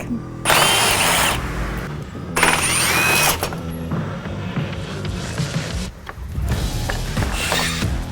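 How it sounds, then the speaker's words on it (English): Power tool bursts removing bolts from the bed of a Polaris RZR Pro XP side-by-side, loud whirring runs starting and stopping several times, close up, with no talking. "Now we're going to remove all of these bolts and these push pins."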